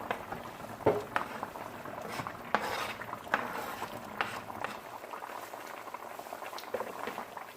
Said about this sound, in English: Just gonna stir this in.